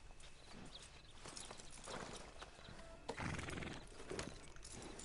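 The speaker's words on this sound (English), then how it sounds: "Is that my horse?" Horse in Red Dead Redemption 2 clip-clopping at a walk and letting out a whinny, hooves steady over a busy game ambience with a brief louder burst midway.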